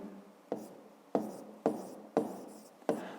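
Pen strokes scratching on paper during a 5th-grade maths exercise, five short bursts spaced about half a second apart, close and fairly quiet, with no talking.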